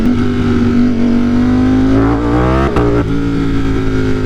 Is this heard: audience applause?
no